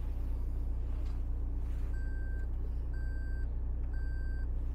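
Reverse parking sensor of a 2017 Toyota Fortuner beeping in three evenly spaced steady tones of about half a second each, over a constant low engine idle rumble.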